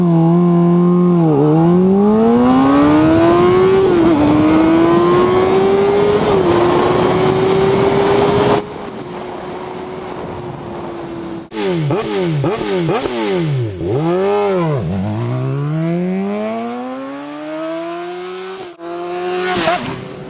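A 2008 Honda CBR600RR inline four-cylinder supersport motorcycle revs loud and close, its high-pitched wail rising and falling through repeated throttle blips and sweeps, with a brief quieter idle partway through.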